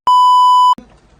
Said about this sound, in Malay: Macam notifikasi sikit tapi lucu begitu.